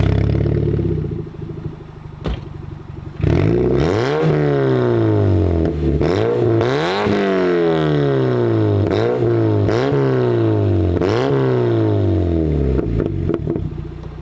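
A project drift car's engine revs hard and loud, several rising-and-falling blips in quick rhythm after a rough idle, close by with no talk.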